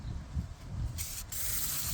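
Low rumbling handling noise, then a steady hiss of aerosol undercoating spraying starts partway through and continues, applied under a 1997 Chevy K1500 truck.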